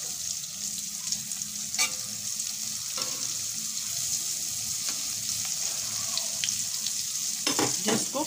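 Sweet potato and cheese frying in a pan over medium heat, a constant bright sizzle broken by scattered clicks and scrapes of stirring, loudest near the end.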